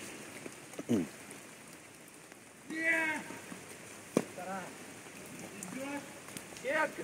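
Rain falling on tennis courts, a steady soft hiss of drops on the surface throughout, with brief voices speaking over it and a few sharp taps.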